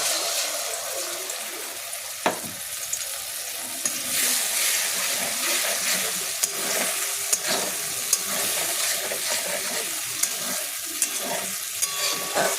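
A paste of cashews, melon seeds and whole garam masala frying for paneer masala, giving a steady close sizzle with stirring scrapes and a sharp tap near the start.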